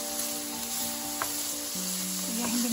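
Pancetta frying in a hot pan with no added oil, giving a steady close hiss of sizzling fat with a faint hum underneath and no talking.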